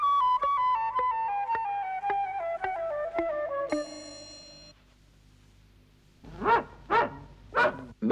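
A cartoon dog barks several times in quick, loud bursts after a descending run of musical tones, set in a 1969 animated children's story about a lost boy.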